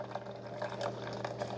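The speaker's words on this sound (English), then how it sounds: "just hit the brew button again. It's going to have to heat that water up and then shoot it out again" A Hamilton Beach FlexBrew 49974 single-serve K-Cup coffee maker brewing a vinegar-and-water descaling cycle, giving a steady close liquid pour with soft gurgling spurts over a low mechanical hum.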